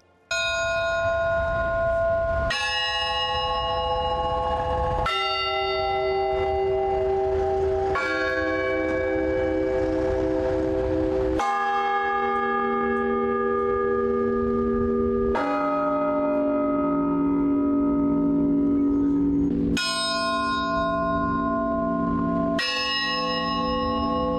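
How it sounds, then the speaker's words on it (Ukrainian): Mournful tolling of church bells from St George's bell tower at a memorial requiem by a Victory monument; loud, ringing strikes with long overlapping decays, sounding one after another in slow succession throughout, no voices. "Лунають скорботні дзвони Георгівської дзвіниці"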